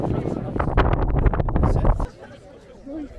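Strong wind buffets the microphone on the Arthur's Seat hilltop in Edinburgh, loud rumbling gusts for about two seconds, then a calmer stretch with a voice faintly heard.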